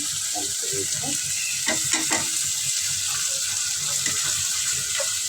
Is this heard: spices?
yes